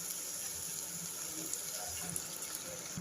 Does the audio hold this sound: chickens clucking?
no